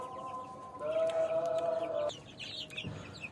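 Chickens cluck close by, with one steady, drawn-out call over a soft background of farmyard clucking and chirping from birds and young chicks.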